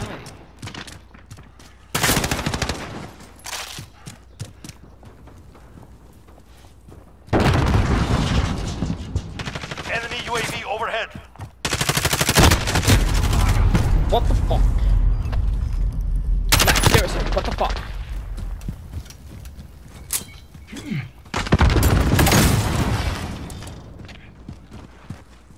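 Gunfire in Call of Duty gameplay, loud bursts of shots and rapid fire coming in several clusters with quieter game noise between them.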